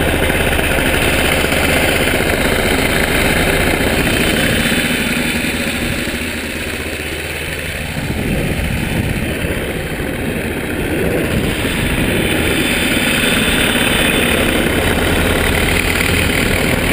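A small paramotor engine idles steadily and loudly throughout, a continuous buzzing drone with a slight dip in level midway.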